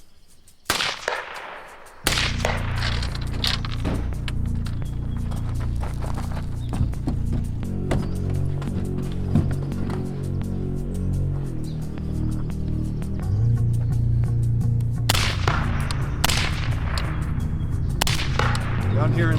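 Gunfire rings out on a night vision shooting course at a training range, a sustained run of shots and heavy booming reports over a dense, loud backdrop, with a voice heard at times.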